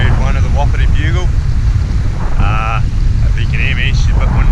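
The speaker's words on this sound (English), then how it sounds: "it's a bit windy out here" Strong wind in Fiordland buffets the microphone with a constant low roar while a person talks over it.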